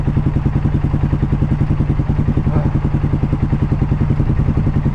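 A Polaris ACE 570 UTV engine runs close by at a steady idle, its even mechanical chugging pulsing rhythmically with no talk over it.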